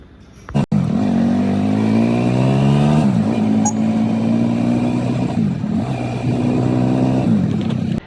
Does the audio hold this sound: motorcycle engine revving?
yes